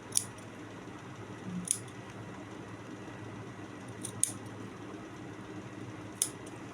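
Scissors snip through fabric at the neckline of a co-ord set during cutting and stitching, giving a few sharp, separate clicks spaced apart over a low steady background hum.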